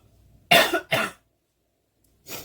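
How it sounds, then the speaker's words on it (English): Two sharp, close coughs in quick succession, then a short pause and a third, quieter cough. "If it's a floral, I always cough from it."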